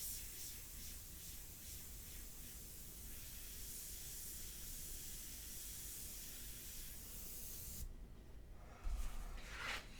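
An airbrush spraying India ink onto a dark portrait gives off a faint, steady hiss that runs for several seconds before cutting off near the end, followed by a soft knock.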